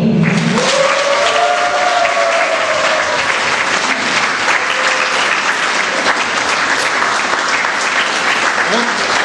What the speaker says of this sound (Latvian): ar aplausiem mēs vēlreiz sveiksim mūsu koru dibinātāju Ievu.